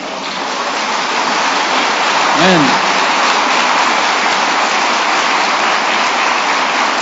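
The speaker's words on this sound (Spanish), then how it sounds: "Denle un aplauso al Señor." A church congregation applauds in a dense, continuous, rain-like wash of clapping that fills the room at steady volume, with a brief voice speaking partway through.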